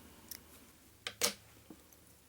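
Small scissors give a few quiet, crisp snips while trimming black hackle feather for a tied fly, with two quick cuts close together and a lighter one before and after in an otherwise quiet room.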